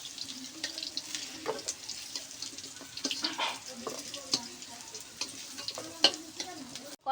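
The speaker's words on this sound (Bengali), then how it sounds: "এবার এই কড়াইতে আমি আলুটাও ভেজে নেব" Potatoes fry in hot oil in a wok, a steady close sizzle crackling throughout with occasional scrapes and stirring clatters over several seconds.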